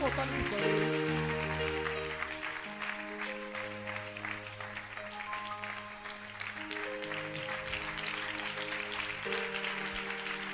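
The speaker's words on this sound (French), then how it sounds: "Acclame pour le Saint-Esprit." Sustained applause from a church congregation during a French-language worship service, a steady wash of clapping under held organ or keyboard chords and a voice.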